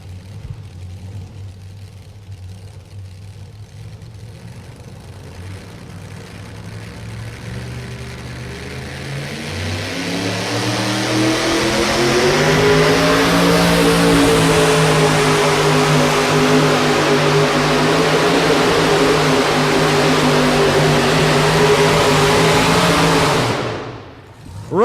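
Two-wheel-drive pulling truck engine at a truck pull finals, loud and near, climbing from a rough idle into a sustained high roar as it strains under load, then cutting off abruptly.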